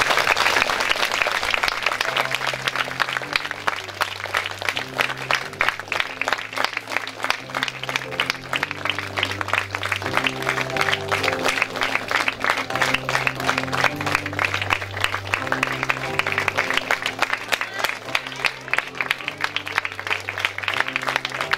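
A school audience claps loudly and steadily after a Grade 6 performance at a theatre fiesta. The applause holds dense and even, with music playing underneath.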